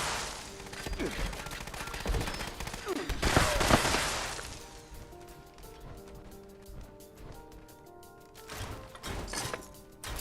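Gunfire in the video game Fallout 76, a rapid crackling volley in the first few seconds, then another short burst near the end, fairly faint under game ambience.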